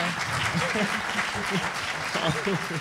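Audience applause at a film screening and debate about plastic waste, steady clapping with voices talking over it throughout.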